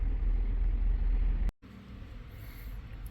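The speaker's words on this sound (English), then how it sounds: "So, I'm going to go take it up the road." A Ford F150 pickup truck drives up the road with a muffled engine and road rumble, briefly cut off midway, then continuing steadily with no talking.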